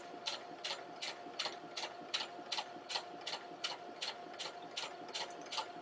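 A sewing machine stitches along the edge of fabric, running in a steady, even rhythm of quick mechanical clatters at close range with no voices.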